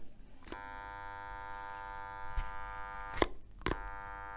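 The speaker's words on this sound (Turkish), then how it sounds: "Motorumuz çalışıyor arkadaşlar. Fakat bıçağımız milimiz kilitlendiği için motorumuz mili çevirmeye gücü yetmiyor. Bir uğultu sesi var." A kitchen blender motor hums with its blade and shaft seized, a steady electric buzz broken by a few sharp clicks and knocks.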